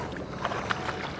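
Quiet water sloshing and knocking against a small fishing boat's hull while maneuvering after redfish, with a couple of soft thuds and wind over the microphone.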